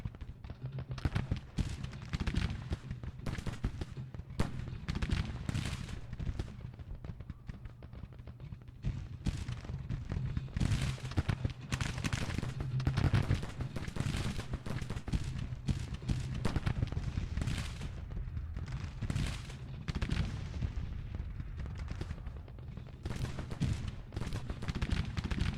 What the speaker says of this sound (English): Our guns are firing.